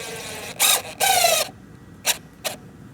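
A power drill drives screws into the mount of an Aquor outdoor faucet: two longer close whirring bursts, then two short quick ones, over a quiet background.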